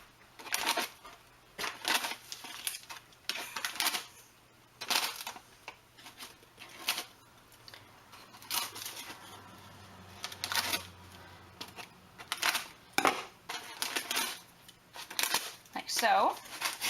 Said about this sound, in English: Cut a couple holes in it.